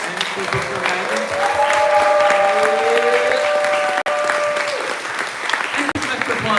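A crowd at a Pride evening book event claps warmly in a steady, loud wave of applause with a few whistles and cheers, holding strong before briefly dipping and resuming.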